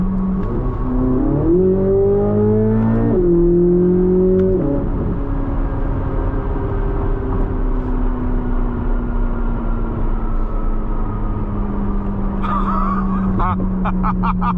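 A loud, high-revving naturally aspirated V8 in a mid-engine 2023 Chevrolet Corvette Z06 climbs through several gear shifts with a throaty, steady drone, then settles into a sustained roar nearby.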